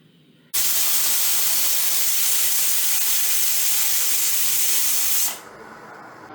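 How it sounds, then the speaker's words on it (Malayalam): A pressure cooker on a medium flame releases a loud, continuous, close hiss of steam that starts abruptly, holds steady for about five seconds, then drops away. "കുക്കർ അടച്ചിട്ട് ഫ്ലെയിം ഓൺ ആക്കി കൊടുത്തിട്ടുണ്ട് ഇതൊരു നാല് വിസിൽ വരുന്ന ഒരു കേട്ടോ"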